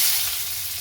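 Small chopped onions hit hot oil for tempering, a short, close burst of sizzling hiss that fades slightly.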